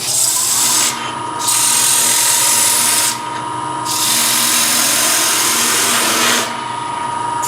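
Sandpaper rubbing against a spinning wooden platter on a lathe to take off a pencil mark, a steady close hiss in three long passes separated by brief pauses while the lathe hum continues beneath.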